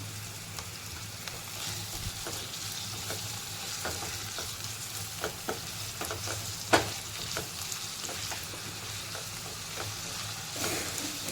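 Chopped tomato and green chillies with a little salt cook in a pan, giving a soft, continuous sizzle and frying hiss with occasional stirring scrapes and light clicks, steady and unbroken throughout.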